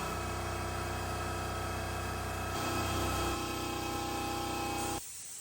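A steady, loud hiss of a spray gun laying down clear coat on a car, with a constant mechanical drone underneath that cuts out abruptly near the end.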